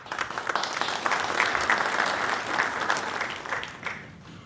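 Sustained audience applause at a formal conference address in 2011, a steady wash of many hands clapping at moderate distance that fades slightly toward the end.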